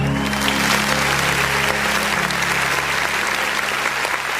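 A church congregation applauds during a worship service. The clapping is dense and steady, with a sustained tone and low hum of music or organ underneath, and stays loud throughout.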